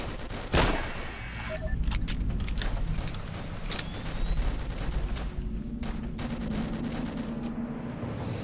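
Gunfire in the video game Fallout: New Vegas, a burst of loud shots in quick succession followed by continuous firing and impacts with a dense, busy game soundscape throughout.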